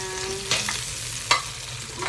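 Tomatoes sautéing in a pan for chicken guisado, a steady sizzle with a faint hum beneath and two sharp utensil scrapes or clinks, no talking.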